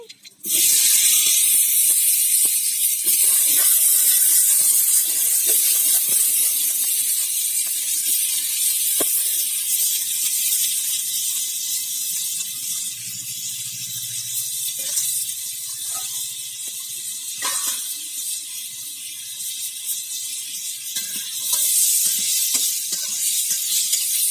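Mustard seeds and curry leaves sizzle in hot oil while tempering for a village-style pumpkin kootu. The loud, steady hiss holds throughout, with faint pops and crackles scattered on top.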